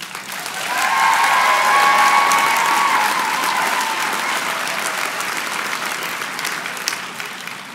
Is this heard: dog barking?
no